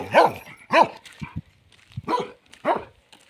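A guard dog on a farm in Croatia barks in a few sharp bursts, two quick barks, then two more after a short pause, close by with some yelping in between.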